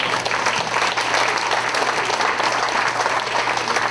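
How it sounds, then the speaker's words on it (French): Steady applause fills the room at a tribute to volunteers of the MRC de l'Érable, a dense continuous clapping from the audience with no voices. "On l'applaudit."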